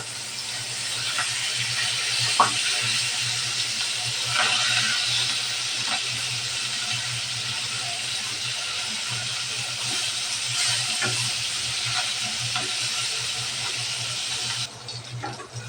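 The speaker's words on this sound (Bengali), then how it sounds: "মাছটা একবার ভাজা হয়ে গেছে এখন উল্টিয়ে নেব" Continuous hissing sizzle of hilsa fish frying in hot oil, steady throughout with a few faint clicks and pops, then a brief drop near the end.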